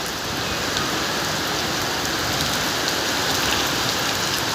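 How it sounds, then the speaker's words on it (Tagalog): Heavy rain pours down steadily outside a canteen, a dense, loud, unbroken hiss of drops hitting surfaces with no voices. "napakalakas po ng ulan"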